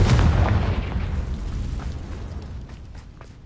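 A Confringo fire spell from the Hogwarts Legacy video game explodes with a loud, deep boom, its rumble fading away over a few seconds.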